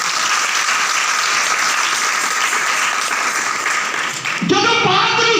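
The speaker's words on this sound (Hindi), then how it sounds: "पाक रूह के लिए जोर नाल ताली।" A church congregation gives loud, continuous applause during a sermon on the Holy Spirit, a steady wash of clapping that cuts off abruptly near the end as a louder voice takes over.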